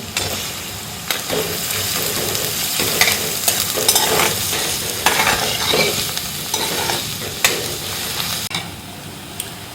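Onion sautés with capsicum over a high flame for pav bhaji, making a loud, continuous sizzle broken by repeated spatula scrapes and stirring knocks close by.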